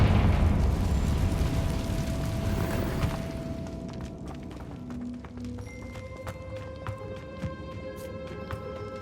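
A Confringo fire spell bursts in the Hogwarts Legacy video game with a loud, rumbling blast that fills the first few seconds, then fades into quieter cave ambience with faint tones and light clicks.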